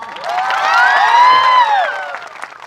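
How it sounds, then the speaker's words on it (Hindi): An indoor audience breaks into cheering and whooping for a brother, a short swell of voices rising and fading over about two seconds, loud and close, with no clear clapping rhythm. "एक अच्छी ताली एक और भाई के लिए बजा दे"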